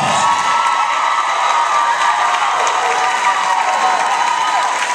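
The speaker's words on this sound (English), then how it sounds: "Give me another round of applause." An audience at a middle school team event bursts into steady applause and cheering, with whoops and shouts over dense clapping that holds loud and unbroken throughout.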